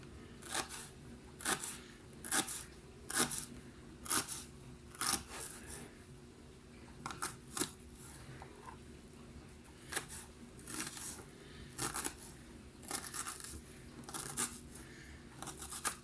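An onion chopped with a knife on a board, giving a series of crisp, evenly spaced cutting clicks in short bursts, close and fairly loud, with brief pauses between runs.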